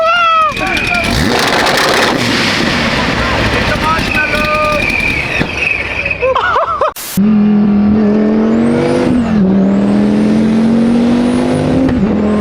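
A twin-turbocharged car engine revving and accelerating hard, loud and close, its pitch climbing through the gears with a brief break at a shift and wind buffeting the microphone.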